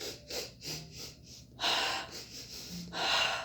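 Forceful agitated yoga breathing, a series of loud, rapid sharp inhales and exhales through the nose with snorting bursts, close and alone.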